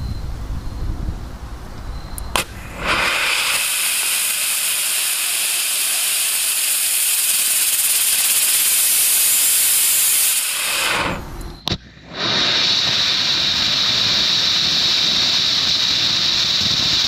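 A homemade composite rocket motor fires on a static test stand with an oversized nozzle, giving a loud, steady roaring hiss that lasts about eight seconds, cuts off briefly, then resumes with a sharper hiss.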